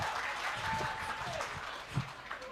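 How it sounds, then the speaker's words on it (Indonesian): An audience at an Indonesian national dialogue event gives a short round of applause, a moderate wash of clapping throughout that blends with crowd murmur. "Ya, tepuk tangan."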